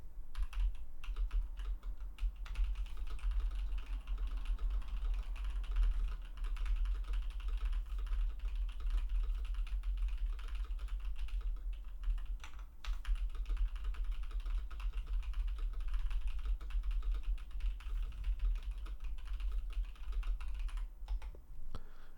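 Typing on a mechanical keyboard picked up by a dynamic microphone during a background-noise test, a faint, continuous patter of key clicks over a low hum with no voices.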